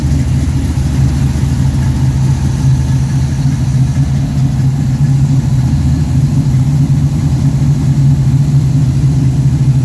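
A car with a factory iron-head Pontiac 455 engine idles steadily at about 950 to 1,000 RPM, with a low, constant rumble throughout, loud and close, with no talking over it.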